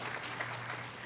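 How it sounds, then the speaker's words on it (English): Audience applause at a national breast cancer coalition event, a brief burst of many hands clapping at a steady, moderate level with a faint low hum beneath. "I think we ought to give her a round of applause"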